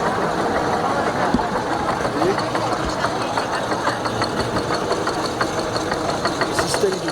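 A motor drives a cable-and-pulley system at a castle ruin in Ksamil, Albania, humming and knocking steadily with a continuous mechanical vibration.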